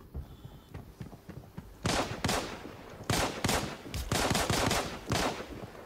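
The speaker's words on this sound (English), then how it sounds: "I've got scavs shooting at me, I think, because I shot one inside." Bursts of gunfire from AI scav enemies in the mobile shooter Arena Breakout, several loud, sharp volleys arriving in clusters after a quieter opening, with no talk over them.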